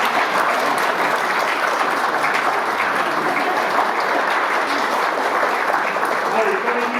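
Audience clapping steadily throughout at a school music concert, a dense, even wash of many hands that holds at the same level for the whole stretch with no pauses.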